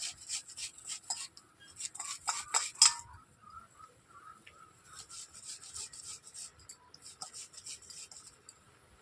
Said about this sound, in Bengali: এরপর পেঁয়াজ গুলোকে একই সঙ্গে টমেটোর সঙ্গে আমি কুচিয়ে নিচ্ছি